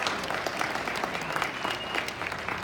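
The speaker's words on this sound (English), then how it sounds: "Give her a round of applause." A crowd claps steadily through a short burst of applause at a student induction ceremony, even and sustained, without voices.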